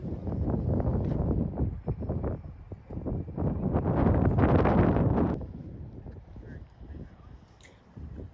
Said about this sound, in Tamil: ரொம்ப காற்று வேறு அடிக்கிறதுனால